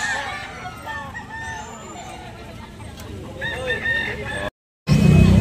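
A White Kelso gamecock rooster crows at a fowl sale in Carbon, Cebu, a single drawn-out call over steady crowd chatter and market noise, with a brief dropout near the end.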